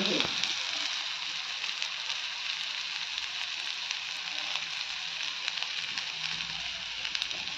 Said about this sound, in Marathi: कढईमध्ये तेल टाकले, तेलामध्ये कारले आणि मीठ आणि ह्याला 5-10 मिनटं झाकून घेतले